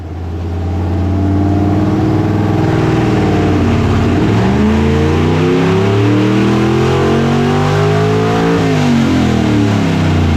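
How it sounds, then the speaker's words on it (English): A nitrous-fed 339 stroker small-block Chevy roars through a full pull on a hub dyno, its loud, close engine note climbing steadily, dipping briefly, then rising again to a sustained high-rev howl. "So we'll make a pull and see what happens."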